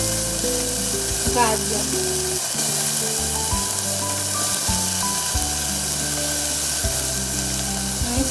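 Diced carrots, peas and sweet potato sizzle steadily in a pan for daliya, a continuous loud frying hiss with occasional stirring scrapes, and a voice briefly speaks over it.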